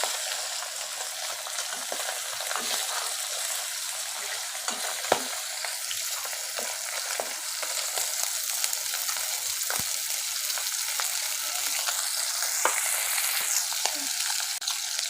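Salted pabda fish fry in mustard oil in a karahi, a steady close sizzle with scattered small pops and occasional louder spits, continuous and unbroken by speech.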